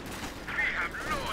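Light machine gun fire in Company of Heroes 2, a brief burst of rapid game gunfire at moderate distance with some spoken commentary mixed in.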